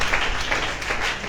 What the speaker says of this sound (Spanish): Denle un aplauso mejor al Señor en esta hora